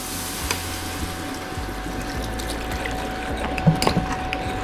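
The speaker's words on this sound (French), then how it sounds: "Là, je mets un petit peu d'eau." Water poured into an electric pressure cooker (Autocuisto) while making boeuf bourguignon, a steady close splashing fill under a constant background hum and faint clicks, with no talk.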